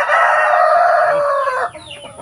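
A native breeder rooster on a farm crows loudly and close in one long drawn-out call, which trails off into softer clucking.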